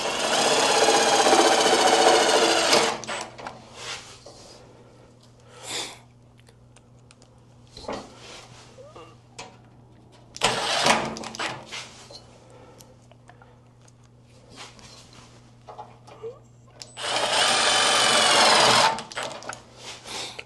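An impact driver drives self-tapping screws into a VW front Safari window, heard as three loud, close, rattling bursts of a few seconds each, separated by quieter gaps with faint handling noise.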